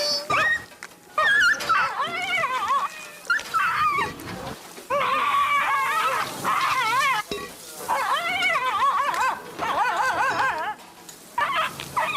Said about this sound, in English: we hear dogs cry as the meat grinder is being used